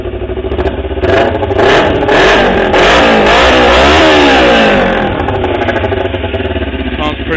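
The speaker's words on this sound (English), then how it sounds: "Let me give you a little glimpse of how the sound, the new muffler sounds." Kawasaki Ninja 250R motorcycle fitted with a Gixxer aftermarket muffler, revving close and loud, its exhaust note rising and falling through a couple of throttle blips before settling back toward idle.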